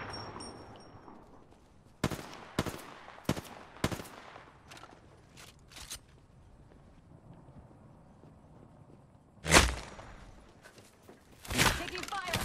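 Video game gunfire cracks out in scattered sharp shots and short bursts, some close and loud, others fainter, with pauses between them and voices talking.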